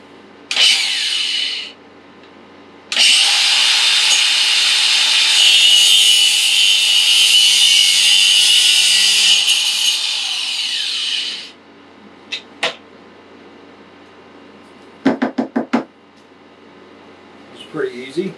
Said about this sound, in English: I'm going to cut it with the cutoff blade in my angle grinder.